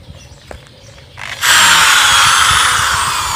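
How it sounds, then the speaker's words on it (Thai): A power drill bores into a flattened plastic bottle meant for watering plants in dry soil. After a quiet start with small knocks, the motor whines loudly and steadily, close up, to the end. "ผมจะเจาะในส่วนของตรงนี้ครับ"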